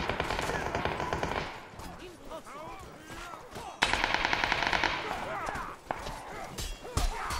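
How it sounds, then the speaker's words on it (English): Rapid bursts of automatic gunfire from bots fighting in the video game Mordhau crackle at a distance, firing in irregular volleys with brief pauses, while a voice speaks faintly underneath. "Listen to this gunfire in the distance."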